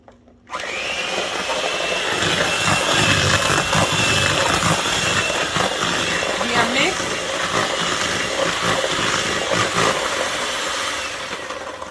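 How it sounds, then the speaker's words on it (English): An electric mixer creams peach cobbler batter in a bowl, starting abruptly and whirring loudly and steadily for about ten seconds before easing off near the end, close up. "I'm going to use my mixer to mix it in even more"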